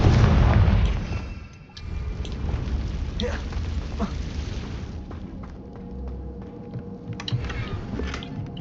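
A Confringo blasting spell explodes in the Hogwarts Legacy video game as a loud, booming burst at the start, then fades into a low rumbling ambient bed with scattered small crackles.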